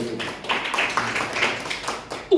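A church congregation at a Sunday service claps and applauds in a dense, rattling burst of many hands at moderate loudness, with no clear talking.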